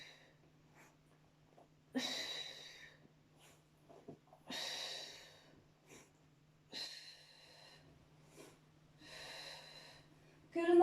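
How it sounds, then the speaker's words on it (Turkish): Rhythmic breathing during an abdominal exercise workout, in through the nose and out through the mouth, with several strong exhalation bursts separated by quiet pauses, close and fairly faint. "Burundan nefes al. Ağızdan nefes ver."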